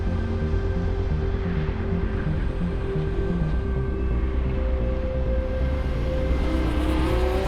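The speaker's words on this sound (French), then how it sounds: "le moteur de cette version n'est pas aussi puissant que celui de la R8 V10 Quattro" An Audi R8 sports car engine drones steadily while driving on the road, a loud continuous hum with layered engine tones that holds level throughout, with no voices.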